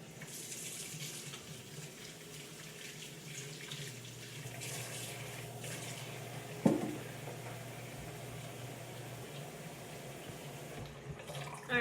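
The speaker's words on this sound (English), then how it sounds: "I'm going to go and wash my hands." A kitchen sink tap runs steadily while hands are washed under it during Sunday meal prep, a continuous close hiss of flowing water with a brief knock midway and a clatter near the end.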